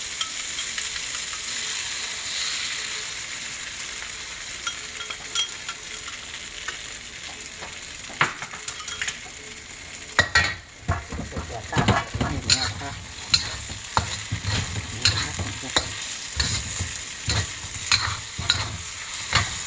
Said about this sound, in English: you start to stir that egg sauce in